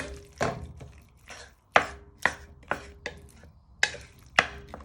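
Sharp irregular knocks and scrapes of a utensil breaking up chicken in a pan, about eight distinct hits with quieter scraping between, close and clear with no talking.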